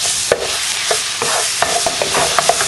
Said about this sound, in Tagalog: igigisa lang natin yung ating garlic hanggang maging fragrant siya